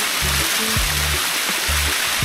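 A small roadside waterfall in Malico, Pangasinan, gives a steady, close rush of falling water, with low humming tones running beneath the spray throughout.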